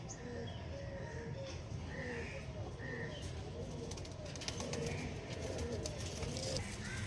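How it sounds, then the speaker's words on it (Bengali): Pigeons coo repeatedly at close range in a loft or backyard, soft throaty calls recurring against a steady background hum, with occasional faint voices. "এই পায়রা দুটো নর্মাল ফ্লাইং দিচ্ছে"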